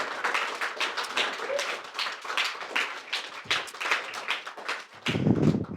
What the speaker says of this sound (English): let's give these guys a huge round of applause.